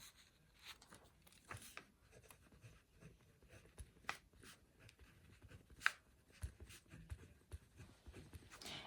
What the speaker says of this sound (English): I'm going to go ahead and write it